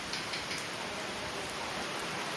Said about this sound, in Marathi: जोरातच येलो पाऊस